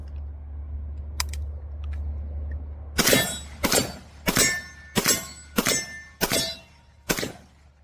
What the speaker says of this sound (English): got my steel targets downrange. Let's see how well it does.